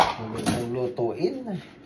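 Plates and dishes clatter as they are washed by hand, with a voice talking over the clinking throughout.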